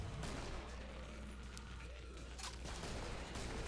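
Gunfire in the co-op zombie shooter Killing Floor, a dense steady fusillade of shots mixed with game noise throughout, with no speech audible over it.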